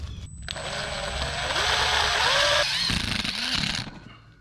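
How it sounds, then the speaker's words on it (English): A power driver runs a self-tapping screw into a metal carport pipe, giving a loud, close, rising whine for about three seconds that strains lower as the screw bites, then stops abruptly. "I'm gonna have to do a self-tapping screw in here just to keep that secure so it doesn't slide out."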